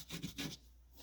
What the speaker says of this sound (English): You're going to sand it down a little bit.